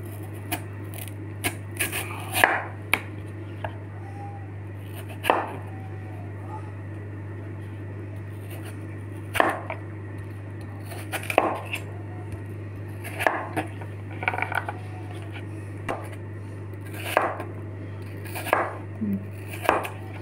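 A knife cuts potatoes into thin French fries on a board, giving sharp, close, irregular chops in short bursts over a steady low hum, with a voice speaking now and then.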